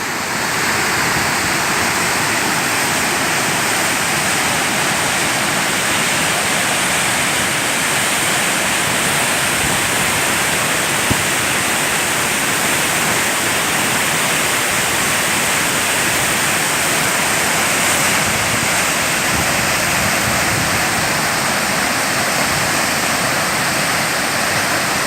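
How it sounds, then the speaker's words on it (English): The Wachirathan waterfall in Doi Inthanon National Park, Thailand, roars as a steady, dense, loud rush of falling water that continues without a break throughout. "This is Wachiratan waterfall, still in Doi Intanon National Park."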